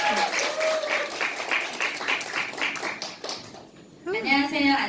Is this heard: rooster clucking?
no